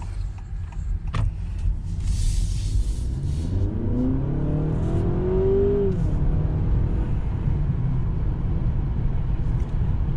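A 2024 Honda Accord Hybrid with a four-cylinder engine accelerates hard, its motor whine rising steadily in pitch over a loud, continuous road and engine rumble heard from inside the car.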